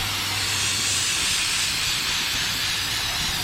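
Aerosol can of brake parts cleaner sprayed onto the rear brakes of a Ford Flex, a steady, loud, close hiss that runs unbroken from start to finish.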